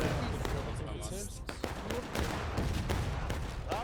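Musket volleys in the American Civil War game War of Rights, a large 300-player battle at Piper Farm. Dense, crackling shots keep coming throughout, with a few sharper reports standing out.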